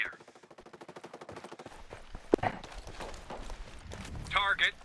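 Rapid automatic gunfire in the video game Ghost Recon Breakpoint, a fast, evenly spaced burst at moderate level that gives way to scattered shots and footstep-like thumps, followed by a sharper crack.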